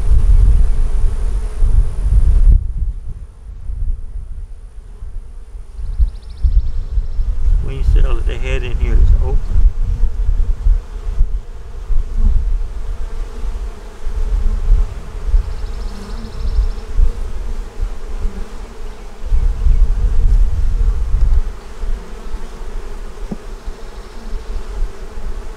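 Honeybees buzzing around a hive with a swarm and an unmarked queen, a dense steady drone close to the microphone with some wind noise and intermittent low voice talking underneath.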